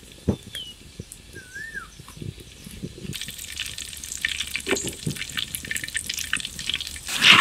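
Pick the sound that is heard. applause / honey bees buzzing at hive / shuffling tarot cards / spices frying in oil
spices frying in oil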